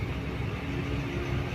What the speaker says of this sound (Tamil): பயங்கரமான டிராஃபிக்ங்க ஹைவேலியே